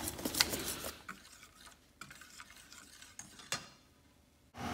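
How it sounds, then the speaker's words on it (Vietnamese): Flour batter being stirred with water for savory bánh đúc, a spoon scraping and ticking repeatedly against the bowl in quick, irregular strokes, close and fairly quiet, with no talking. "Mình khuấy cho bột nó tan ra hết"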